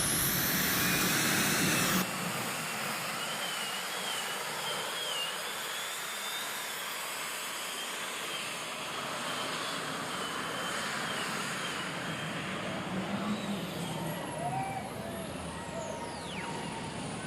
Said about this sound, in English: He was working them brakes as he went past me.